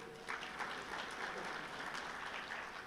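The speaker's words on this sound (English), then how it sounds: "Another big round of applause." A large audience at a labour and employment summit claps for a speaker, a broad even patter that sounds distant and soft and carries on unbroken throughout.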